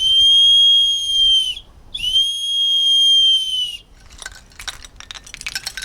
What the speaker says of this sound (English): Here we have a whistle made by Native Americans out of an antler, and they carved it into the shape of an eagle, and it sounds like an eagle way up high.